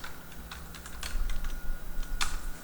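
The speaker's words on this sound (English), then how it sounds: "here I'm going to type in Discussions" Someone types briefly on a computer keyboard, a short run of close, crisp key clicks over a low room hum.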